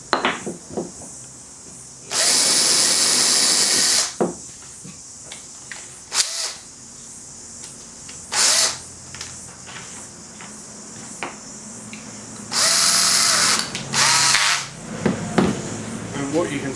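Several bursts of a power drill boring a pilot hole for a wood screw, each run lasting about two seconds with a steady high whine, separated by quieter handling sounds and light rubbing on the wood.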